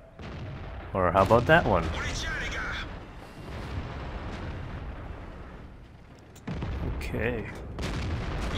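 A tank gun in World of Tanks, an AMX CDC, fires with booming reports amid rumbling battle ambience, several heavy shots spread through the clip as someone talks over them.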